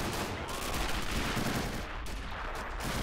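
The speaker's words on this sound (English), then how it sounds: "the ones landing further back here are most likely coastal offshore artillery bombardments here from our battleship" Offshore battleship artillery bombardment in a World War II Pointe du Hoc battle game scene sounds as a dense, continuous rumble of gunfire and distant impacts, heavy and unbroken with rattling shots layered throughout.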